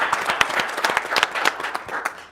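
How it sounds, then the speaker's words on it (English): A burst of applause, many hands clapping quickly and irregularly, fairly close and steady for a couple of seconds with no voices over it. "let's give a round of applause to the guests."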